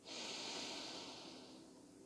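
A single deep inhalation during a guided meditation, a close, breathy intake of air with a sharp nasal onset that fades gradually over about two seconds.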